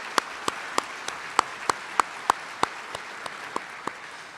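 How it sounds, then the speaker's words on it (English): Sparse, evenly spaced claps ring out in a large hall during a city's State of the City address, about a dozen single sharp hand claps, fairly faint, with no voices over them. "a big round of applause"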